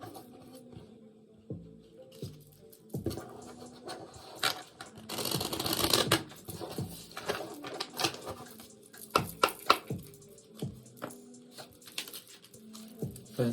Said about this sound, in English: Let's shuffle these cards.